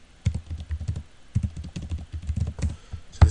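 Keys clatter on a computer keyboard in quick, uneven bursts of close taps with short pauses between runs, ending on a heavier keystroke; nobody speaks.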